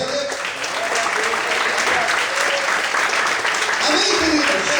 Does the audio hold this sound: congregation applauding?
yes